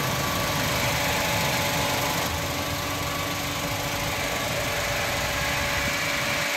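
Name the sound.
Suzuki Hustler mini engine idling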